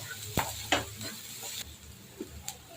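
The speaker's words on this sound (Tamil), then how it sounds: "இப்போ கடுகு, பெரிய வெங்காயம் 2, கருவேப்பிலை, கொஞ்சோண்டு சீரகம் எல்லாம் போட்டு ஆட் பண்ணி கிளறிட்டுருக்கோம்" Mustard seeds, chopped onion, curry leaves and cumin stirred in hot oil for an eggplant gravy give a soft, low sizzle, with a few sharp spoon clicks and scrapes against the pan.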